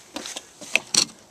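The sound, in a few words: fuel door of a 2012 Chevrolet Malibu LTZ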